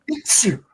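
A single sharp sneeze close by, a quick intake followed by an explosive burst, over in under a second.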